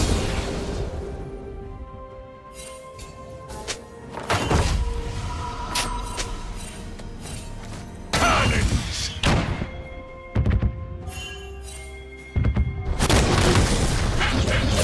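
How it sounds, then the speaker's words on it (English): A barrage of cannon blasts in League of Legends, Gangplank in a top-lane fight against Garen, several deep booming thuds landing in bursts over busy game sounds and music. "Cannons!"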